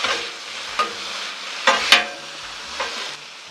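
Green beans sizzle on a Blackstone griddle after a splash of red wine vinegar, a steady frying hiss broken by a few sharp stirring scrapes and clinks, close and fairly loud with no voices.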